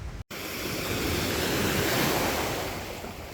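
Waves wash steadily onto an empty Chicago lake beach, a continuous broadband surf roar with light wind noise, close and fairly loud after a brief dropout at the start, with no voices.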